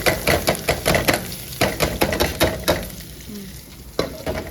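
Onions frying on a gas stove, a loud close sizzle punctuated by rhythmic scraping strokes of a spatula stirring against the pan.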